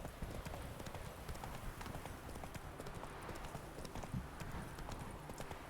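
Galloping hooves of a horse in The Witcher 3 pound in a quick, continuous rhythm, fairly faint and steady for the whole stretch.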